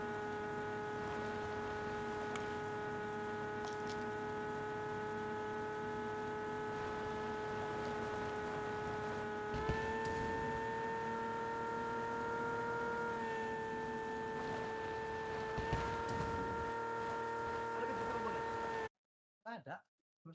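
Lamborghini engine in a video game: a steady droning hum holding one pitch, stepping up slightly partway through, running continuously near and loud for about nineteen seconds before cutting out.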